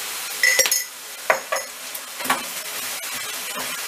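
Minced beef frying in a pan is stirred with a utensil, giving several close scraping clinks over a continuous soft sizzle. No one speaks.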